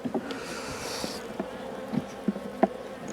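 Honey bees buzzing around an opened hive, a close, continuous insect hum with individual bees darting past the microphone and brief louder passes.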